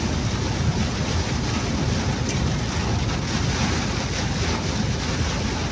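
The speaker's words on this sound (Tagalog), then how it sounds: "Yelo, binabagsak ng ulan." Heavy, steady rain with hail pours down on a truck in a dense, continuous roar, with no voices.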